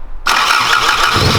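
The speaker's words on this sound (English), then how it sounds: "we're gonna start the car up and drive it down there" A Toyota Corolla AE86 engine cranks and catches, bursting in loudly after a brief quiet moment and settling into a steady, close, rough idle with no talking.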